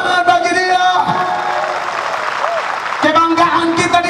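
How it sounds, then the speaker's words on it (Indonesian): Congregation at a church worship service clapping and cheering, a loud sustained wash of applause with whoops, strongest in the middle stretch, while a voice talks over the start and end. "beri tepuk tangan bagi Dia"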